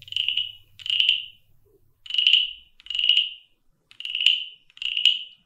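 A folk artist imitates a small frog croaking with a thin, high buzzing sound in six short, evenly spaced bursts, close and moderately loud with no other sound around it.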